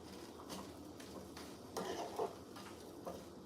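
Broccoli and onions cooking down in a pan, a quiet sizzle with intermittent stirring scrapes and a couple of soft utensil clinks, faint and close.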